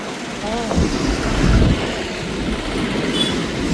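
A small train rumbles slowly over a river with a low, steady rolling drone and rattling, mixed with wind buffeting the microphone; a voice is briefly heard.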